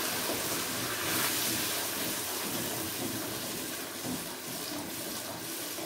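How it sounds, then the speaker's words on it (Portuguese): Water pours into a pot of caldo verde soup, a steady broadband splashing and gushing that runs continuously and fairly loud throughout, with no talk over it. "Vocês podem acrescentar mais água, tá?"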